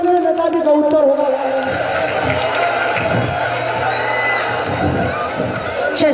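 School event audience at Meena Manch 2023 cheering and whooping with a loud crowd roar, mixed with voices and shouting throughout.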